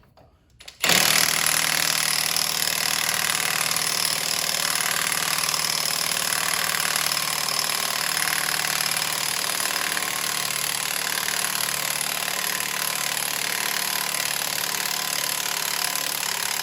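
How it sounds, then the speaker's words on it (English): A Mustang GT500 blower pulley comes off under a cordless impact wrench. The sound is a loud, steady mechanical hammering that starts abruptly and runs continuously, close up, with no speech. "But I have an impact, so I'm going to use that instead."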